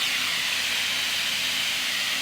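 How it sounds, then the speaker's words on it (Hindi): Steam hissing out of a pressure cooker after its whistle weight is lifted off while cooking goat trotters (mutton paya): a loud, constant, airy hiss that holds steady throughout, with no talk. "अब हम इसके ऊपर से सीटी निकाल देंगे, उतार देंगे इसकी, ताकि इसके अंदर से गैस निकल जाए।"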